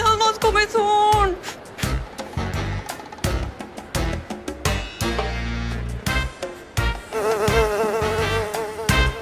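A housefly buzzes around a scene in a Mexican telenovela, its whine weaving among music and scattered sharp hits across the whole stretch.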